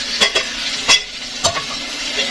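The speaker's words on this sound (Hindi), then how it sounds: "और मसालों को अच्छे से भून लेना है।" Ground spices such as red chilli, turmeric, salt and roasted cumin stirred and fried in a pan for a fish dish, with a steady sizzle and several sharp scraping stirs of a spoon against the pan.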